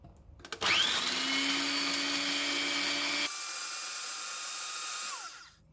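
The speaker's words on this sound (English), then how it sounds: "I'm going to try my food processor" A food processor chopping a small batch of pecans starts with a few clicks, then runs as a loud, steady motor whine, shifts pitch midway and winds down at the end; close, with no talk.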